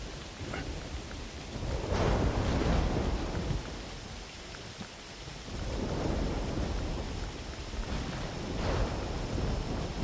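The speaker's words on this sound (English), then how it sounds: "yeah, the thunder and lightning," A thunderstorm in theHunter Classic, with steady heavy rain and several rolling thunder swells rising and fading, loud and continuous, with no voices.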